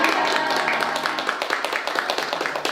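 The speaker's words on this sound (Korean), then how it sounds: "저희 스스로 모두 다 같이 박수 치면서 이 자리를 마무리하고 싶어요" A group at a warm closing session of a parent-teacher relationship-building program claps together, a dense continuous patter of many hands that thins slightly toward the end, with faint voices mixed in.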